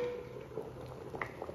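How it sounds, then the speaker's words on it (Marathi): A pot of crab curry boils vigorously, a soft continuous bubbling with scattered pops and drips at close range, faint and steady, with no talking. "व्यवस्थित ह्याला चांगली खतखत खतखत अशी उकळ येऊ दे"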